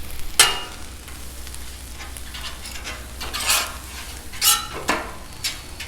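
Oil hissing on a hot Blackstone griddle with a low steady sizzle, broken by a few scraping and clattering spatula strokes on the flat metal surface, close and without voices.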